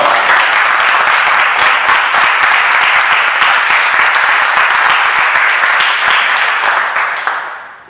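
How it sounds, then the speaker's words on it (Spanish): Sustained audience applause following a presentation at a talk on art and postmodernity, dense even clapping from a crowd that holds steady for several seconds and then fades out at the end. "un fuerte aplauso por la presentación"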